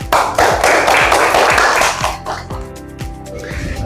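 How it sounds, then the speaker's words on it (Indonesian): A class of students claps together during an Islamic religious education lesson, a dense burst of hand clapping that thins into a few scattered, separate claps near the end. "Tepuk tangan semua"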